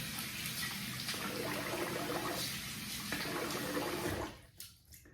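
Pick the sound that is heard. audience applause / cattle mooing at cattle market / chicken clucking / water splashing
water splashing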